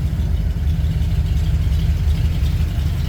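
A Ford F100 pickup with an FE V8 engine idles steadily after a cold start with the choke pulled, giving a close, continuous low rumble with no speech over it.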